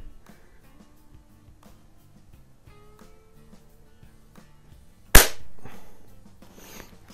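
A single sharp air rifle shot, from a Gamo 126 or Beeman AR2078, cracks loudly midway after a stretch of faint background sound, followed by a brief ringing decay and quiet.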